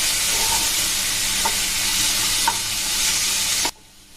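Two medium tomatoes sizzling in a hot pan, a loud steady hiss with a few soft knocks of stirring spaced about a second apart, close up and alone, cutting off abruptly near the end.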